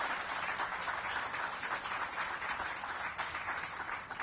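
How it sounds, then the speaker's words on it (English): Audience applause at a school groundbreaking ceremony, a steady wash of many hands clapping that holds at an even level throughout with no talk over it. "big round of applause for them."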